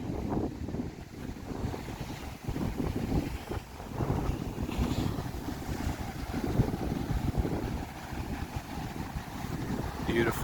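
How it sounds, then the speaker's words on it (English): Strong wind roars steadily across the Laie Point coast above choppy seas, buffeting the microphone throughout, with a single brief spoken word partway through. "Might be too windy for me to even talk"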